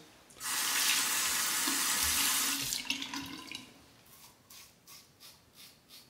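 A tap runs steadily beside a sink while a safety razor is rinsed under the stream, a loud continuous gush for about two seconds, then a series of shorter splashes as the flow is interrupted and resumed.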